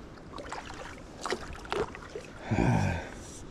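A cheap Chinese air-cooled four-stroke outboard motor on a canoe, heard as an uneven, labouring engine note over water and wind noise, swelling louder in the last second.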